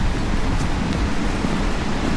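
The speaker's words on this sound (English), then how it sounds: "Sounds like there's a fair bit of water passing through the reservoir today" Water rushes through a reservoir on the North York Moors near Cod Beck after heavy rain, producing a loud, continuous broadband roar with no pauses across the whole stretch.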